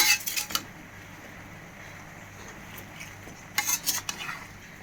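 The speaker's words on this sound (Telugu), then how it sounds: "సో చాలా జాగ్రత్తగా కలుపుకోవాలి." Eggplant curry is stirred in a pan with a metal spoon: a cluster of clattering scrapes and clinks, a quiet pause with a low sizzle, then another burst of scraping, all close.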